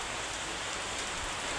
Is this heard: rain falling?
yes